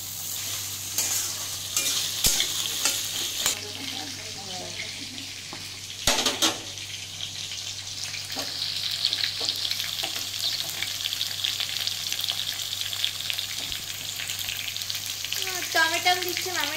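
Potatoes stirred into fried onion in a hot pan give a steady close sizzle with repeated scraping and clinks of a spatula against the pan, a faint hum underneath.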